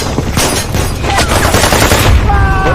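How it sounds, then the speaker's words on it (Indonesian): Rapid, dense gunfire from a movie battle scene in which a pilot fights terrorist troops, loud and continuous bursts layered with explosive booms throughout. "Tiba-tiba sang pilot menembak pasukan teroris tersebut. Pertempuran pun dimulai."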